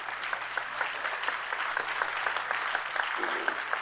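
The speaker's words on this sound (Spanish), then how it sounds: "Jesús Padilla, presidente fundador de AMTM, a quien pido un aplauso" Audience applause in an auditorium during an international transport congress, a steady, even patter of many hands sustained throughout, moderately distant with a faint hum underneath.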